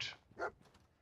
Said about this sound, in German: der Hund hat was gefunden